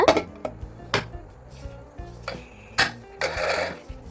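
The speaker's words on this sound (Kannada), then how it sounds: "ಕುಕ್ಕರ್ ಮುಚ್ಚೋಣ." A pressure cooker lid is set on and closed in a home kitchen, producing a few sharp metallic clanks and taps, close and fairly clear, with a short scraping rattle near the end.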